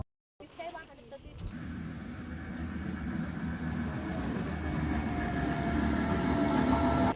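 Train rolling along the rails in Switzerland near Zermatt, heard from a window seat inside the carriage: a steady low rumble that builds gradually and stays close throughout, with faint clicks near the start and no talking.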